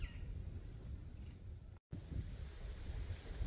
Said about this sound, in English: Wind is picking up for sure.